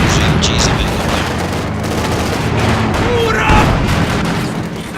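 Enemy fire in the real-time strategy game Company of Heroes 2, with dense, loud rattling gunfire and booms in a snowy battle, including machine guns, anti-tank guns and mortars, mixed with soldiers' voices calling out.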